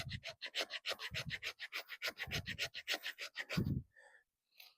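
A Sitivien ST35 fixed blade fighting knife with an AUS-10 steel blade and G10 handle scrapes in quick, rhythmic back-and-forth strokes, close and crisp, about a dozen passes before stopping, followed by a couple of faint taps.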